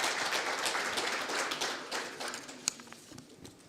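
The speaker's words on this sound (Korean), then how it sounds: "큰 박수 부탁드리겠습니다." A conference audience at a Bank of Korea policy session claps in welcome, a moderate burst of applause that thins and scatters toward the end, with a few isolated claps standing out.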